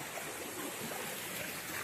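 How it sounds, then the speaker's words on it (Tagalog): A stream of water flows near Puray Falls after a typhoon, making a steady, close broadband rushing sound with no breaks and no voices. "So, ito yung dinadaanan na tubig."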